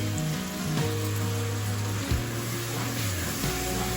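Water poured into well-fried masala for a gravy, giving a steady broad sizzle and hiss from the pan that stays even throughout, with a low tonal hum running underneath.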